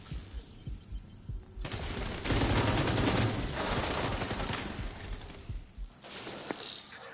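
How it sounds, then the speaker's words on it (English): Grenade explosions and rapid gunfire in the shooter video game The Division 2, a dense, loud stretch of blasts and firing that swells in the middle and eases toward the end, with no talking. "they're spamming me hardcore with these friggin' grenades"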